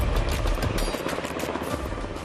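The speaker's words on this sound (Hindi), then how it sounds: "MH-60 ऑल वेदर हेलीकॉप्टर है" An MH-60 all-weather military helicopter flying, its loud rotor thump and turbine roar filling the air continuously at close range, with no voices.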